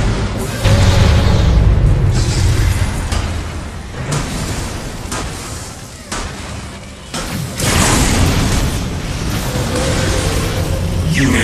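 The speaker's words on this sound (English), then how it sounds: "Nuclear weapon launched." A nuclear weapon detonates in a strategy video game with a loud, sustained rumbling roar, surging in waves of booming bursts that swell, dip, and swell again, filling the whole stretch.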